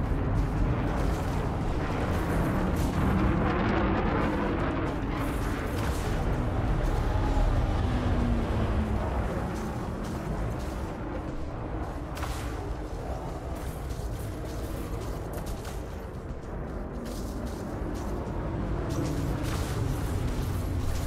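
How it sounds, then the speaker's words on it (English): Sci-fi railgun on the Alliance Chieftain "Taurus" in a video game fires off a feedback cascade, a dense continuous roar of heavy booming blasts and rumble that stays loud throughout, no voices over it. "And that would be the railgun firing off the feedback cascade."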